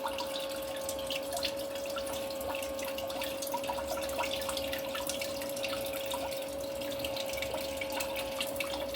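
Water runs steadily through a cone washing crushed black fibre CPU material for gold recovery, a continuous trickling and dripping with a constant pump hum underneath.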